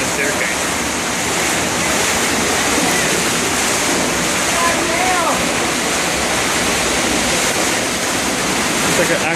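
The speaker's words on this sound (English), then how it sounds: "And there's a fucking waterfall on a staircase." Floodwater cascades down an outdoor staircase during the 2013 CU Boulder flooding, a loud, steady, continuous rushing roar like a waterfall, close to the microphone, with faint voices occasionally under it.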